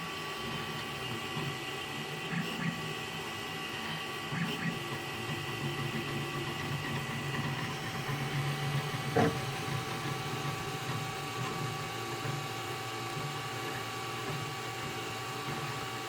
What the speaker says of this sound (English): So this is just printing a little like rotor from a rotary engine.